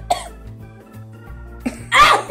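A couple of short coughs, one early and a louder burst near the end, with quiet breathy pauses between them.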